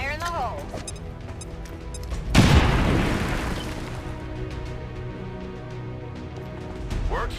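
A loud explosion booms in the video game XCOM 2, a sudden burst partway through that decays into a rumbling tail, with game sounds and voices around it.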